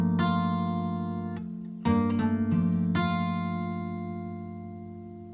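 Acoustic guitar fingerpicked with the thumb on the sixth string, plucked notes ringing out alone in a steady, even pattern with a few fresh attacks as the chord sustains and decays.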